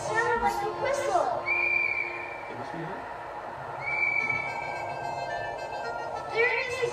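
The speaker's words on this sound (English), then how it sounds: "I think I'd recognize that whistle from anywhere." A steady whistle is blown at a campfire sing-along, repeating in drawn-out tones a few times and standing out against the children's chatter and voices around it.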